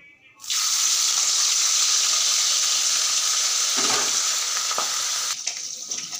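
Pabda and fesa fish hit hot oil in a wok and settle into a loud, steady sizzle that runs continuously, with a brief clatter partway through and the hiss easing slightly near the end.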